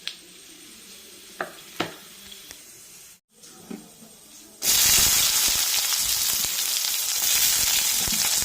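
Onions dropped into a hot pan for chickpea curry: a few soft clicks and taps, then a sudden loud sizzle that bursts in and holds steady to the end.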